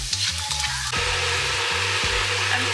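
Garlic and onion fry in a hot pan with a steady, close sizzle, broken by a few scraping stirs and clatters of a utensil against the pan.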